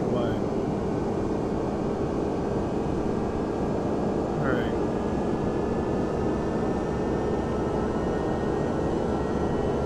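A Boeing 767-300 taxis in Flight Simulator X, its jet engines producing a steady, loud broadband roar with a faint whine held through the whole stretch, and no voice over it.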